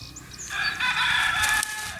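A rooster crows once, loud and fairly close, its drawn-out call rising over a quiet farmyard background.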